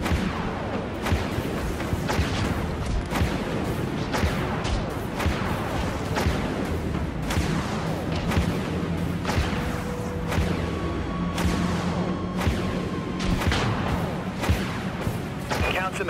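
Vulture missiles launching from a ship in the space combat game Dreadnought: a rapid series of sharp launch bursts and whooshes repeats over a steady roar of battle noise, with voices talking.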